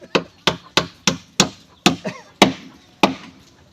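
A hammer drives a nail with eight sharp, close, wooden-sounding blows at a steady but slightly uneven pace, each strike ringing briefly before the next, with no talking.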